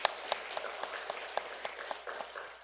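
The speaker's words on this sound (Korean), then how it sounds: "마음으로 격려 박수 한번 보내주시기 바랍니다." A church congregation gives a light round of encouraging applause during a Sunday worship service, with scattered individual claps standing out over a soft, thin background of clapping.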